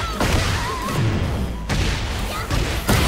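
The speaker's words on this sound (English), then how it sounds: "Oh, the cannon spike!" Cammy's Cannon Spike landing in a Tekken fighting game match, a series of loud booming impacts and thuds packed close together over continuous crowd and commentary noise.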